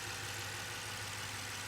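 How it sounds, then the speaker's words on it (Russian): A BMW N63 V8 engine idles after starting during a repair, a steady, faint, low hum with an even drone and no talk. "Двигатель запущен, прогрет."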